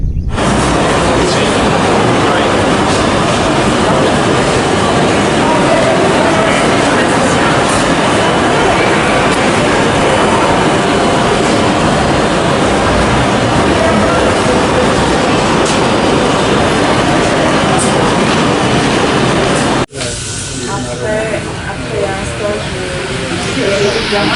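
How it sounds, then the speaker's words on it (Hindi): A Paris underground metro train roars loudly and steadily, a dense rumbling rush that cuts off abruptly near the end, leaving quieter station noise. "फ्रांस में पेरिस की मेट्रो, जो ज़मीन के अंदर से चलती है मेट्रो"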